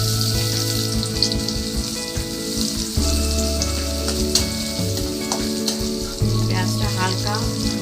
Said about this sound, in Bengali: আমি এখন কড়াইয়ে তেল গরম করতে দিয়েছি, তেলটা গরম হয়ে গেছে। এখন আমি দিয়ে দেবো পেঁয়াজ কুচি।